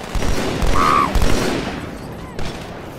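A sniper rifle shot from the Halo 2 campaign mission Outskirts, heard as a sharp, loud report amid a busy stretch of overlapping gunfire and in-game combat noise, with brief voices in the mix.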